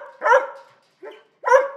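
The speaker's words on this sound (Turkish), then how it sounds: "Evet, bu bir köpek." A dog barks twice, close and loud, with a softer yip between the two barks and short silent gaps; no one speaks.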